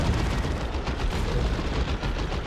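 A plasma cannon fires in the strategy game Dawn of War 2, giving a dense, continuous roar of loud blasts and crackling weapon fire with no pauses, amid the clamor of battle.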